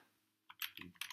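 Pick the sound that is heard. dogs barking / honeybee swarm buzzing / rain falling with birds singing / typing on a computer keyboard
typing on a computer keyboard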